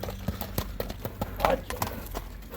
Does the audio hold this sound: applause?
no